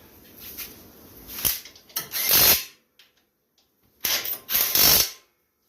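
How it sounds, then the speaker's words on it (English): A ratchet wrench clicks in two quick bursts of turning as 19 mm bolts are tightened on a 2019 Hustler zero-turn riding mower, with quiet pauses between the runs. "we're going to get our 19 millimeter, go ahead and tighten up those 19 bolts"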